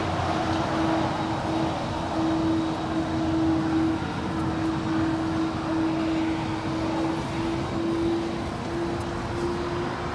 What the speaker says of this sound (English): Corset is Iberia, flight 6171, coming in from Madrid, now crossing over 25 rights. This is just a 4-year-old A330.